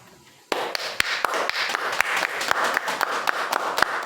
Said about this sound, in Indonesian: Silakan diberikan aplaus.